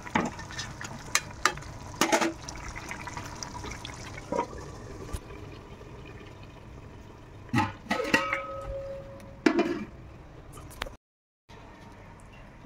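Chicken frying dry without gravy in a pan, a soft continuous sizzle with occasional louder stirring scrapes and clatters, near and moderately loud.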